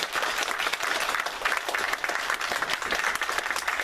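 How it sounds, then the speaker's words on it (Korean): A church congregation claps in warm, continuous applause during a Sunday worship service, dense and even for the whole stretch. "우리 큰 박수 한번 하도록 하겠습니다"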